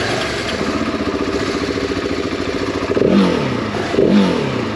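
A KTM 690 SMC single-cylinder motorcycle running close by, with a steady, rapid idle pulse followed by two brief blips of the throttle.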